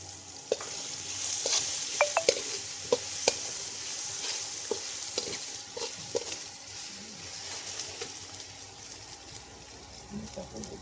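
Green chillies sizzle steadily in hot oil for a thin poha chivda tempering, with scattered spoon scrapes and stirring clicks over the continuous frying hiss.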